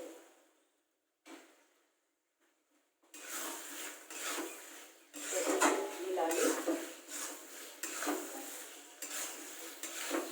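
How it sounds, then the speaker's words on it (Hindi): Paneer being stirred into a sabzi in a pan, with spatula scrapes and stirring that start faintly and grow louder and steadier, continuing in repeated strokes. "अब हम इसमें पनीर मिक्स कर लेंगे।"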